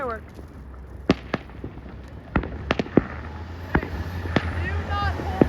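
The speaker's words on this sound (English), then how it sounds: "Hang on, they're doing a firework." Fireworks or firecrackers going off outdoors: a series of sharp bangs and pops at irregular intervals, some close and loud, others fainter, with crackling between them and people talking throughout.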